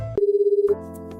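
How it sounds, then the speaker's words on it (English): Phone dial tone in the visual novel game Nukitashi, heard as a steady, warbling electronic tone pulsing rapidly for about half a second, clear and alone, before giving way to softer game sounds. "After a few loops of the dial tone, she finally picks up."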